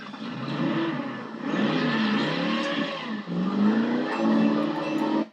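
A car accelerates hard toward a ramp for a stunt jump, its engine roaring loud and close with rising revs and a brief dip before surging again, continuous throughout.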